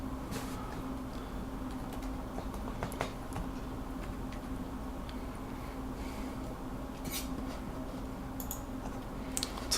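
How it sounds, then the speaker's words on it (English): Keyboard with silenced stabilizers typed on during a typing test: quiet, scattered clicky keystrokes, some faint and some sharper, over a low steady room hum, with no voices. "Let's go ahead and do a typing test."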